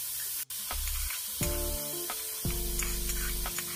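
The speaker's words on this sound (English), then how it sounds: "Fry my ginger, garlic," Ginger, garlic and green chilies fry in hot oil, hissing and sizzling close by, with a short drop near the start and steady frying after it alongside low humming tones.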